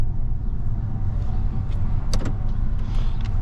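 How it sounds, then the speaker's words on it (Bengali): A 2021 Honda Vezel Z hybrid gives off a steady low hum at rest, with a few sharp clicks and a soft whirr partway through, close and unbroken. "হন্ডার হাইব্রিড নয়েজটা"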